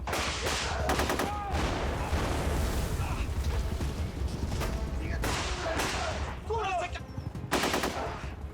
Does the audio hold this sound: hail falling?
no